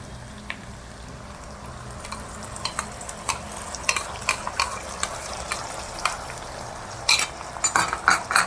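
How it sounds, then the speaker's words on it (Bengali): Egg chicken chowmein being stir-fried with sauce over a high flame, with steady frying hiss and repeated scraping and clinking of a utensil against the pan, growing busier toward the end. "এই জোর দিয়ে ভালো করে মিক্স করে নিচ্ছি আমি মশলাগুলো"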